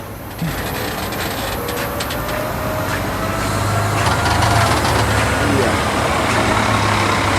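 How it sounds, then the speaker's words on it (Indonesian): A Scania K360IB intercity bus engine runs smoothly and steadily, heard from inside the vehicle, a low even rumble with some rattling, and voices speak faintly over it. "Ini suaranya cukup halus ya. Kalau Hino biasanya kerasa banget suaranya, tapi Scania ini suaranya lembut."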